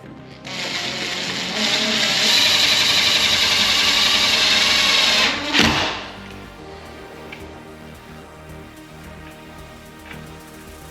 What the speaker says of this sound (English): Then we can grab that drill. It's got the screw on the end.